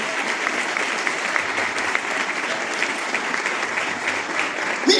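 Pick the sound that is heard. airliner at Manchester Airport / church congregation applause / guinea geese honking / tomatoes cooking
church congregation applause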